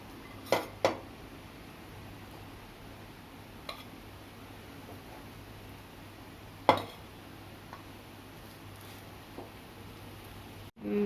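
Chicken fry piece biryani, Hyderabadi style, being served onto a plate: a few scattered close clinks and scrapes of a utensil against the plate, spaced seconds apart over a quiet background.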